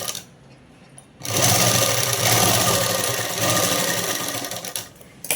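A sewing machine stitches the shoulder seam of a child's dress, a quick rattling run that starts after a brief pause, keeps a steady fast rhythm, then stops near the end.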